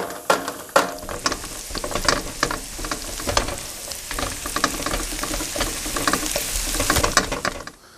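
Shallots sautéing in a hot pan with a lively close sizzle, punctuated by frequent clattering stirs and scrapes of the utensil.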